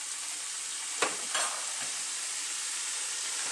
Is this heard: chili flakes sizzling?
yes